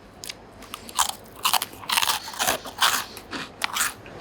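Crisp crunching bites into a homemade salty Mikuni rusk, a close, irregular series of sharp cracks and crumbly chewing over about four seconds with no voices.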